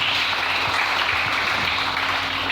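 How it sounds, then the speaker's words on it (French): A church congregation applauds the Lord, a steady, dense wash of clapping that stays loud and even for the full length with no clear voices above it. "Est-ce qu'on peut acclamer le Seigneur?"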